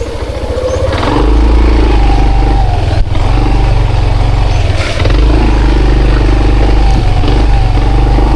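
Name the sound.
motorcycle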